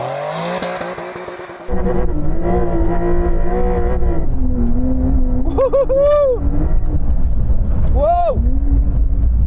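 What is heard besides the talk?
Porsche 911 Dakar accelerating hard on mud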